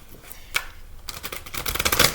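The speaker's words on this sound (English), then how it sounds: "I've already shuffled and meditated on the cards, but I do like to give them another." A deck of oracle cards is shuffled up close: a sharp riffle burst early, a short pause, then a longer run of rapid crisp card flutters building toward the end.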